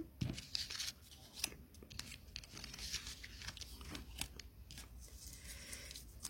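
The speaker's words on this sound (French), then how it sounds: "on va mettre encore 3 autres cartes" Tarot cards being shuffled and laid out on a table, giving soft repeated papery slaps, riffles and brushing strokes at close range, fairly quiet throughout.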